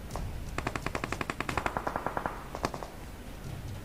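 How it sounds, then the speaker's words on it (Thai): Rapid automatic gunfire from the mobile battle-royale game PUBG Mobile, a fast volley of sharp shots in two bursts followed by a single loud crack, close and prominent with no talk. "น่าจะเป็นบอทพีทยิงกันอยู่"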